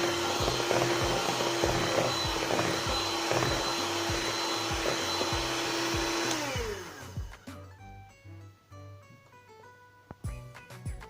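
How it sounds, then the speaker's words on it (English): Blueberry cake batter with buttermilk being whisked by a loud, steady electric motor that whines continuously, then winds down and stops, followed by scattered clinks and handling noises. "I'm just adding it in. And I'm going to whisk it."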